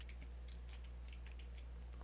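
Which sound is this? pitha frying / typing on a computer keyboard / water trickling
typing on a computer keyboard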